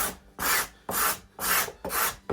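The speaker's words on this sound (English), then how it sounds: "And then finally a cabinet scraper to" Cabinet scraper smoothing the wood of an acoustic guitar build, five rhythmic rasping strokes with short pauses between, close and clear with no talk.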